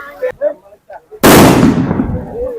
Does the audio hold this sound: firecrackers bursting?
yes